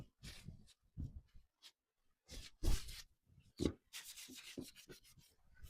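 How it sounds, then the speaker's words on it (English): Clear wax being wiped by rag onto a thrift-store furniture piece, heard as soft, close rubbing strokes in irregular bursts with short pauses between them. "Just wipe off the excess on there."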